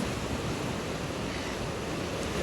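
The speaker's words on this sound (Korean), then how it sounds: "파도 오는데?" Ocean surf at Bondi Beach in Sydney roars as a dense, steady wash of breaking waves, loud and continuous, with wind buffeting the microphone.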